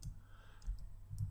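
A few light, quick keyboard clicks, close and quiet, in short bursts over a low background hum.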